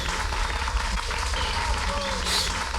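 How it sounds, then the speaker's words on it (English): Applause heard in a song, a dense burst of clapping mixed with the track's music and voices in the background. "Bro is applauding, or like, applauding himself"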